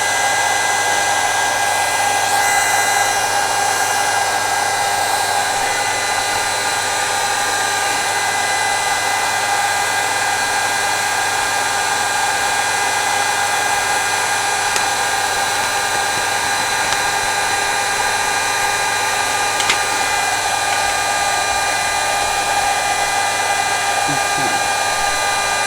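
Heat embossing tool blowing hot air in a steady, loud, unbroken whoosh that runs throughout with no pauses.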